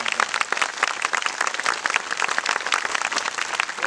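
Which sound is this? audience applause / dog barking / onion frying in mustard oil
audience applause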